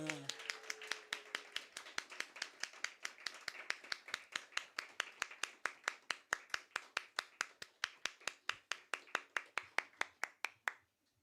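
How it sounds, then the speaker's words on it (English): Clapping at an open mic poetry event in a live studio, a steady run of sharp, evenly spaced claps from a small group that thins out and stops after about eleven seconds, with faint talk at the start. "please give me a rapturous round of applause for Shahina."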